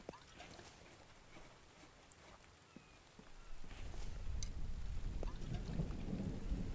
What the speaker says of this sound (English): Okay, while it's raining,